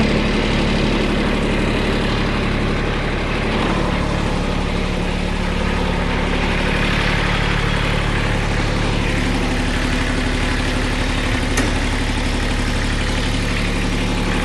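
A Mitsubishi car engine idles steadily and loudly for the whole stretch, a constant low rumble with mechanical vibration and no talking.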